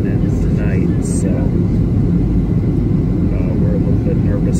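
A fixed-wing aircraft descending to land at Kodiak, Alaska, gives a loud, steady low engine rumble throughout, with people talking over it.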